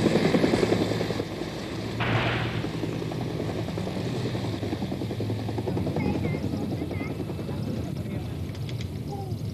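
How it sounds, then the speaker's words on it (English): American military helicopters fly low overhead over a river in wartime Vietnam, a loud continuous rotor thrum with steady chopping pulses throughout, and faint voices underneath. "And overhead are the American helicopters, flying low to see the bikinis."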